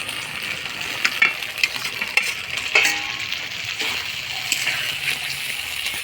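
Fried pointed gourd tossed into a pan with a steady sizzle from the hot oil, close by, while a spatula scrapes and clinks against the pan.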